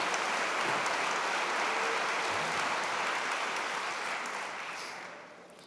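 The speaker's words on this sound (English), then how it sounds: "Let's give one more big round of applause" An audience at a university convocation gives sustained, dense applause for the big band. The clapping stays loud and steady, then tapers off near the close.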